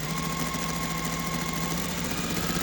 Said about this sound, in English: So essentially, you're sewing from corner to corner.